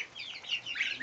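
Young goslings and chicks in a brooder barn split between geese and chicks, with steady high-pitched peeping and chirping overlapping continuously, close and fairly loud, with no talking.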